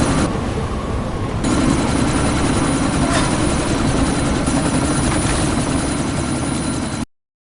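A helicopter in the game Deus Ex: Mankind Divided roars loud and close, its rotor chop and turbine churning steadily through a sandstorm, with nothing else over it, until it cuts off abruptly.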